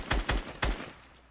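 A hand cannon fires three quick, punchy shots in a video game, each a sharp close burst with a short tail, spaced about a quarter-second apart.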